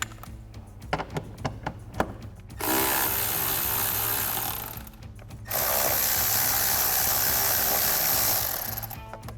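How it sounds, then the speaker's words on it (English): A ratchet wrench with a 10 mm socket loosens a clamp and bolt on a Runner Volant closed-box cold air intake, giving rapid close clicking in two long bursts after a few scattered taps and clatters. "Next we can take a 10 millimeter socket to loosen up our clamp as well as remove this bolt"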